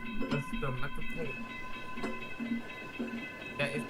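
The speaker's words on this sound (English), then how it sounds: "That's the Metro." A metro train passes in the Roblox video game, a low rumble with rhythmic clicks and a sustained tone, while a voice talks over it.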